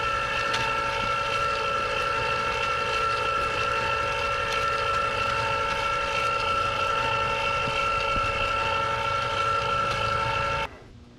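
A Nostalgia 4-quart electric ice cream maker churns vanilla ice cream with a steady tonal motor hum and drone, loud and unbroken, until it cuts off abruptly near the end.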